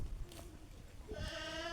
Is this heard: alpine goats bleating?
yes